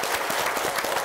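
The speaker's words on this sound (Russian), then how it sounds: "Ваши аплодисменты" A studio audience at a television talk show applauds steadily, a dense wash of many hands clapping at once.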